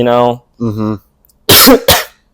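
A person talks briefly, then coughs twice in quick, harsh bursts close up.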